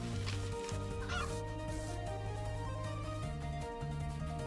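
A chicken clucks in the video game The Adventure Pals, short fowl calls over steady game music that plays throughout.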